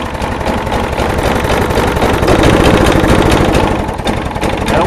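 Small engine idling low and steady, a continuous throbbing putter with a slight swell in the middle, close and loud, with no voices over it.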